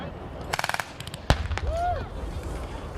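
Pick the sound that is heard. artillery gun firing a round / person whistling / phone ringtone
artillery gun firing a round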